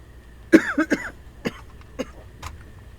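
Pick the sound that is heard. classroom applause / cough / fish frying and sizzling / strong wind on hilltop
cough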